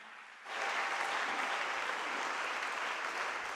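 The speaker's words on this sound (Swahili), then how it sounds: "Pigie makofi ya shangwe na vigelegele." A church congregation in Tanzania bursts into joyful clapping during a sermon, the sound rising abruptly from a quiet hall into a sustained, even roar of many hands with no talk over it.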